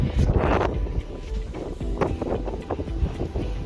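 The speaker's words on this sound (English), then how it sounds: "It's very windy today, so I hope you can hear me." Strong wind blows outdoors on a metal house roof, buffeting the microphone in loud gusty rumbles with no pause.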